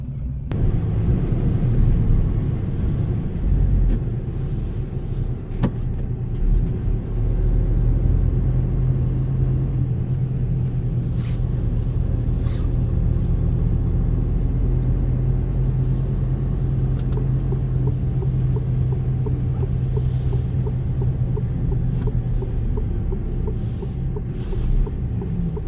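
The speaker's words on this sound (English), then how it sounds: "So yes, in the car transporter, driving for Southwestern Vehicle Auctions." Car transporter truck hauling vehicles for an auction house, driving on the road: a steady, continuous engine drone and road rumble holds at an even level throughout, with no talking.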